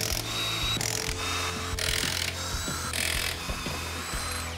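Power tool whirring in repeated bursts, with ratcheting and mechanical clatter, as stock wheels are taken off a truck in a shop; loud and close, with no talking.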